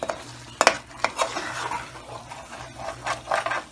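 Pasanday meat frying in oil while being stirred in a pot, steady sizzle with repeated scraping clanks of the spoon against the pan, close and fairly loud, no talking.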